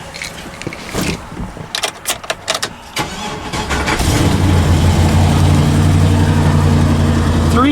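A Chevy 2500HD Silverado truck with high mileage and its engine light on: keys and clicks come first, then the engine cranks and catches into a steady, loud, rough-running idle.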